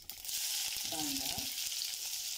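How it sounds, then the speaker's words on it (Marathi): Onion frying in hot oil in a kadai with curry leaves and mustard seeds: a steady bright sizzle throughout, with a few soft stirring knocks and a brief faint voice partway through. "आपल्याला कांदा थोडा परतायचा आहे"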